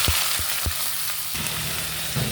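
Cumin seeds and a bay leaf torn in two fry in hot oil, giving a steady close hiss with a few dull knocks of utensils against the pan and no voices.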